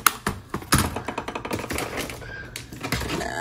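A computer keyboard is handled and set down on a desk, giving a quick run of close, sharp plastic clacks and taps with a few duller thunks, with no talking.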